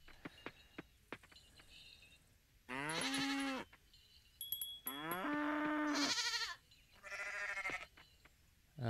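Goats bleat in the farming game Coral Island, several clear, wavering calls in separate bursts with short pauses between, fairly close and with no talk over them.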